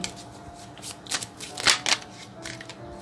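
A deck of tarot cards is shuffled and laid out close up, giving several quick papery riffles and flicks in short bursts over a soft background hiss.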